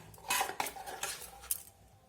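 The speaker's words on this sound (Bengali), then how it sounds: "প্রথমে টক দইয়ের সঙ্গে এই মশলাটাকে আমি মিশিয়ে নেব" A spoon stirs ground black and white mustard seed, melon seed and cashew paste into sour yogurt in a bowl for a cauliflower dish. Several close, light metallic clinks and scrapes come in a quick, uneven rhythm with no voices.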